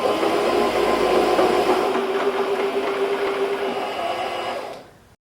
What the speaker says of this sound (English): press the presser foot to wind on the thread